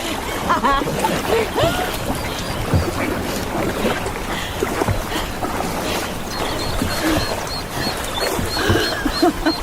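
Rowing boat moving across a lake toward an island, with water splashing and oar strokes in a steady rhythm close by, under a continuous outdoor wash of wind and faint birds; no talk.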